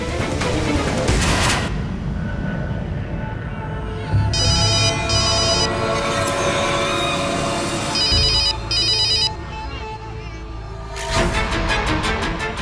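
A telephone rings in a Hindi TV drama scene, trilling electronic ring bursts repeating loudly over dramatic background music and booming sound effects, with no talk.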